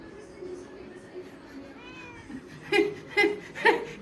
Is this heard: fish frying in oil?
no